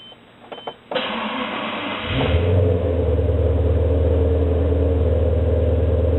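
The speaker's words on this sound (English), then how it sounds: "We'll start the engine." A Maserati 3200 GT starts up: a starter whine with a few beeps, then the engine fires with a rising rumble and settles into a steady, deep idle, recorded close with no talking.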